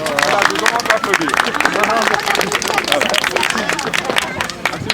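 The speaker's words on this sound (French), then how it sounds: "je demande d'applaudir." An outdoor crowd gathered for a forest planting event applauds the chief engineer. The dense clapping is close and sustained, mixed with chatter and babble, and holds steady for several seconds.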